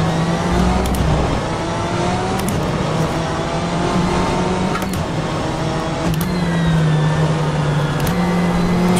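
A BMW M8 GTE race car engine in rFactor 2 at Sepang in the rain, droning loudly and steadily with rising and falling revs as the throttle is worked, punctuated by a few sharp gearshift clicks.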